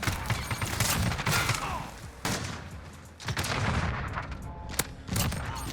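Snakeshot shotgun blasts in Call of Duty on the Shipment map, a dense rapid volley of loud overlapping shots and gunfire with short pauses, one sharp isolated crack near the end.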